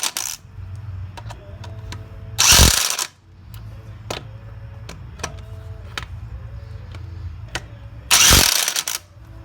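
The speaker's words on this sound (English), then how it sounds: "he's going to run it until it stops. The impact wrench will stop" An impact wrench tightening wheel lug bolts in a crisscross pattern during a brake caliper job gives two loud, rough bursts of hammering, with faint clicks and a low hum between them.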